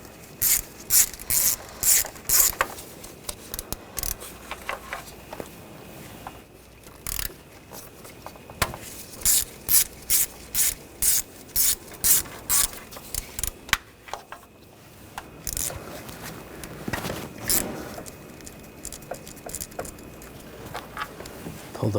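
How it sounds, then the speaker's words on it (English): Ratchet and 10mm socket backing out valve cover bolts on a 2014-2020 Nissan Rogue 2.5L engine, giving repeated bursts of quick metallic clicking with short pauses between bolts, close up and with no talk. "we'll take the rest of them out with a 10mm socket"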